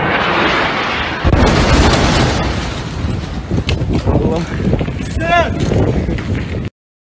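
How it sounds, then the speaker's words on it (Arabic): A missile strike on a tower building during the 2021 Israeli–Palestinian war: a sudden loud blast opens into a heavy, rumbling roar that keeps going, with voices talking over it. "وقصف المبنى بالكامل"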